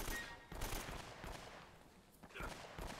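Gunfire from the video game Uncharted: Drake's Fortune plays in quick bursts of sharp shots, faint and somewhat muffled under a soft voice talking.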